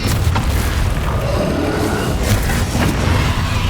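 A Confringo spell explodes in the Hogwarts Legacy video game, a loud, dense rumbling boom that sustains across the moment with a few sharper bursts layered on top.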